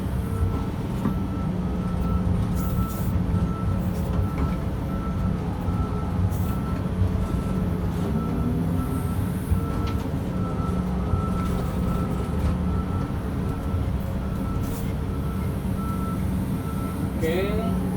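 A Komatsu PC 2000 excavator backs up on soft ground with a heavy, steady engine rumble and a repeating high reversing beep that carries throughout.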